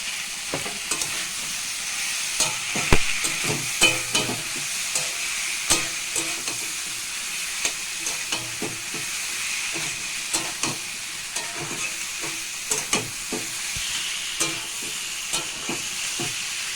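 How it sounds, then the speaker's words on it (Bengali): Spices and sesame paste fry in a pan for a curry of jackfruit with lentil fritters, giving a steady sizzle with repeated scraping stir clicks throughout, close and moderately loud, with no talk. "মশলাগুলো একটু ভাজা ভাজা হয়ে গেলে"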